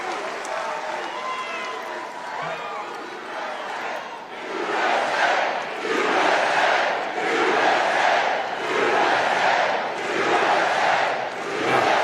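A large crowd at a political rally in Atlanta, Georgia cheers, then chants in loud rhythmic surges that swell and fade every second or so, filling the space with roaring voices.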